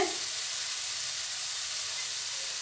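Chana masala spices and onion sizzle steadily while being sautéed, giving a continuous close hiss of frying with no talk.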